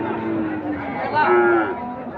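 A cow lets out a drawn-out moo over the busy chatter of a crowd at an outdoor livestock market selling Cross Friesian and Australian bulls.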